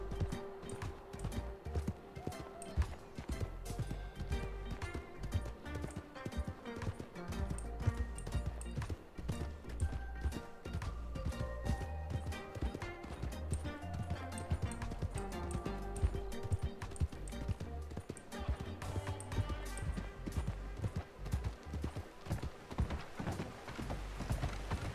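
A horse's hooves clip-clop in a steady, rapid rhythm that keeps on without a break, close and fairly loud throughout.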